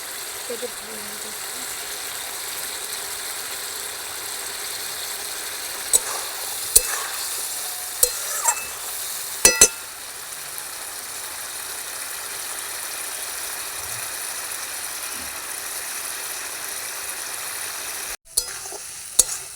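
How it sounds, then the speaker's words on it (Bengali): Potatoes being stir-fried in a pan for a Bengali egg curry, with a soft continuous sizzle and occasional sharp scrapes and clinks of a spatula against the pan. "আলুটাকে মাংসের মতো কষিয়ে নেবো।"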